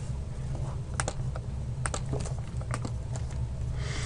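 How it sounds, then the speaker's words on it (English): Someone types a web address on a computer keyboard, with quick irregular key clicks and taps close by over a soft background hum. "you would just want to type that address in"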